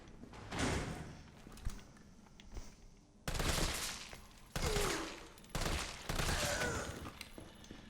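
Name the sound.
gunfire from video game Resident Evil 3 Remake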